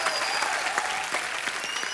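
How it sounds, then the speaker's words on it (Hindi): Dense, continuous applause from a studio audience on a comedy talk show, steady clapping filling the whole moment with no pause. "आप एक बार जोरदार तालियां"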